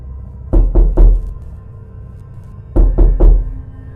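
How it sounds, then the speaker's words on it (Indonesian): Knocking on a car window from outside, heard as two close groups of three dull, hollow raps separated by a quiet pause, near and fairly loud against a low background hum. "sayup-sayup terdengar ada yang mengetuk kaca mobil dari luar"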